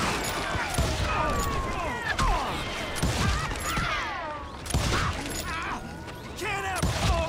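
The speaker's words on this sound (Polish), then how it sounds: "Kolejny strzał." Gunfire from a revolver in the Wild West shooter Call of Juarez: Gunslinger, with sharp repeated shots and impacts over dense game effects and music, and someone talking faintly.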